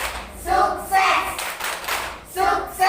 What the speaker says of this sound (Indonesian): Yuk tepuk sukses.